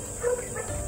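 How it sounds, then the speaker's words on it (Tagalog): A dog gives a short single bark or yelp at night with nobody else around, brief and moderately close over a low background hum. "Hindi tatahol yung aso na ganun pag walang tao"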